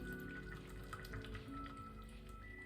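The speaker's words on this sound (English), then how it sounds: "If you just get your kettle, now boiled of course, and then you pour in the water up to the fill line" Boiled water from a kettle pours steadily into a Pot Noodle pot, a continuous close splashing trickle that lasts throughout without a break.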